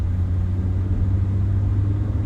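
A car rolls along a road, heard from inside as a steady low engine and tyre rumble that fills the short stretch without any talk.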